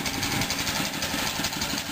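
A 1959 Briggs & Stratton 3 hp small engine, removed from a Toro lawnmower or tiller, runs at a steady idle with a rapid, even chugging putter close by and loud throughout, a faint high whine above it.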